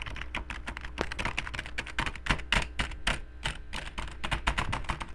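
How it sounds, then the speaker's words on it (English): Rapid computer keyboard typing during Minecraft play, close and clear, with irregular bursts of keystrokes and brief pauses over a low background hum. "I'm just gonna do some very cool keyboard typing"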